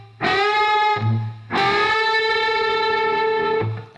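An electric guitar lick played through distortion: two sustained, heavily overdriven notes ring out loud and close with a short gap between, the second note holding and resolving before a brief tail.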